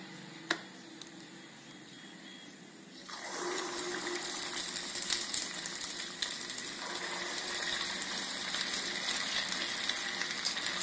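Idli batter bondas drop into hot oil: after a quiet start with one small clink, a loud, dense bubbling sizzle erupts and continues steadily, full of fine crackles and pops.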